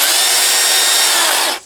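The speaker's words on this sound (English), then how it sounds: "This is a chainsaw," A chainsaw runs at full throttle with a loud, steady, high-pitched motor whine that holds evenly before cutting off abruptly at the end.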